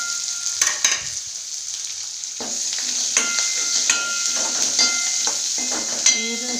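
Curry leaves and onion dropped into hot oil, a loud continuous sizzle close by with scattered scraping and clinking of a stirring spoon throughout.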